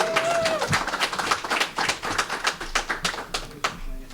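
An audience at a candidate forum claps for introduced candidates, with a steady patter of hand claps running throughout, moderately loud and fairly near. A brief tone sounds at the start.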